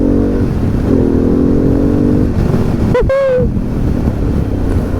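A Harley-Davidson Pan America motorcycle engine drones loud and steady under strong wind buffeting, the front wheel lifting as it pulls hard, with a brief rising whine midway.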